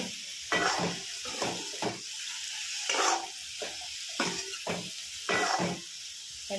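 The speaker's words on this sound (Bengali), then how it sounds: "আবার নেড়ে চেড়ে নেবো" Bitter gourd and eggplant frying in a pan while being stirred: a loud, close sizzle broken into repeated scraping strokes at an irregular, fairly quick rhythm, with no voices.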